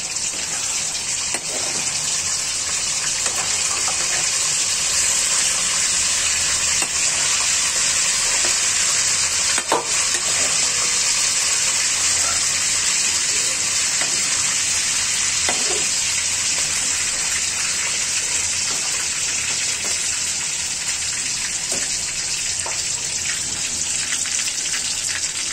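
Oil holding some water sizzles in a pan while chicken curry cooks, a loud, steady, close frying hiss that runs unbroken for the whole stretch, with faint stirring and no speech.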